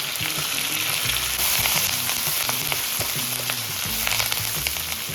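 Curry leaves, green and dried chillies, and ginger sizzle in hot oil for temple-style tamarind rice, a loud, continuous close frying hiss with scattered pops.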